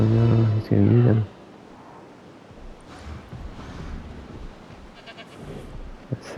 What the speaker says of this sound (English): That's the goat, that's fine.